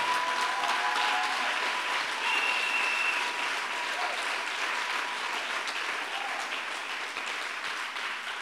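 A church congregation applauds and cheers in a sustained wash of clapping that fills the room at steady loudness for several seconds, with scattered voices and shouts mixed in.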